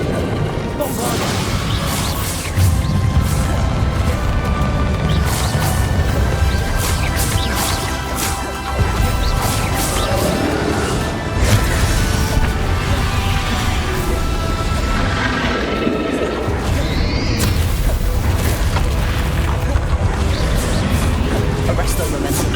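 Bombarda blasting spell going off in Hogwarts Legacy amid a boss fight, a dense roar of crashes, whooshes and impacts that runs nearly continuously at high volume with spoken voices over it.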